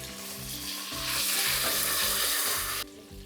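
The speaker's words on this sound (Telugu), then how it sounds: "ములక్కాయలు వేగడానికి కాస్త టైం పడుతుంది, వంకాయలు చాలా ఫాస్ట్గా వేగిపోతాయి" Brinjal and drumstick pieces sizzle steadily in hot oil for a drumstick-leaf sambar, a loud, continuous frying hiss with occasional stirring, backed by soft background music.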